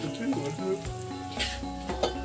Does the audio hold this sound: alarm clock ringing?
no